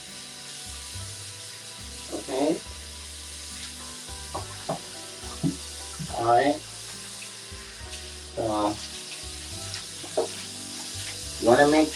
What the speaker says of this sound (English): Now we're going to run some water.